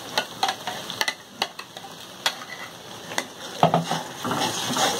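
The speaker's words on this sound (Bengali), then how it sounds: "কষাকষি চলছে" Spices stir-fried in a pan, a wooden or metal spoon scraping in repeated quick strokes over a soft, steady sizzle, close and moderately loud with no talking.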